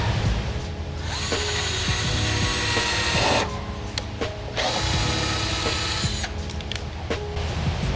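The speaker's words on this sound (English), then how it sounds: "So first, I'm going to pre-drill my holes." A power drill pre-drills holes into a wooden post for an outdoor pull-up bar. The motor whines steadily and close up, with two long bursts separated by a brief pause, and a shorter burst of drilling near the end. No one talks.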